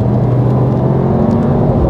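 Steady, loud engine drone from the V8 of a Mercedes-AMG SL 63 4MATIC+ (R232) with a nine-speed gearbox, a low, even rumble and whir heard from inside the car with no voice over it.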